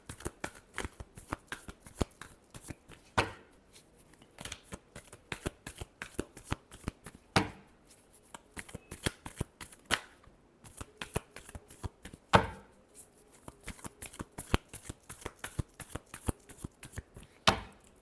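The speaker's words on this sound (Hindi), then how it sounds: "last shuffle" Tarot cards being shuffled by hand, close and crisp, a long run of quick riffling slaps and flutters with brief pauses between bursts, no one talking.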